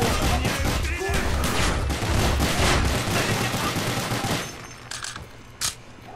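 Dual-wield pistols fire in the video game Call of Duty: Black Ops, a loud rapid string of overlapping shots that thins out into a few scattered bangs near the end, with voices faint underneath.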